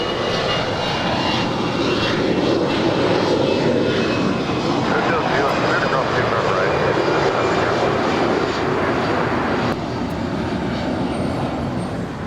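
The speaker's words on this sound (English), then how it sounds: "It's an A320 heading to Seattle." An Airbus A320 jet airliner roars loudly at LAX airport, a broad sustained engine rumble and whine that holds steady throughout, with a voice talking faintly over it.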